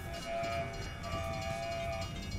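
A flaming train screams past in a Cold War Zombies map, a rumbling rail roar topped by sustained high whistle-like screeching tones, fairly loud and steady, with no talk.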